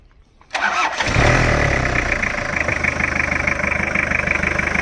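An Isuzu Mighty X pickup truck's diesel engine cranks briefly after a quiet moment, catches within about half a second, then settles into a loud, steady knocking idle close by.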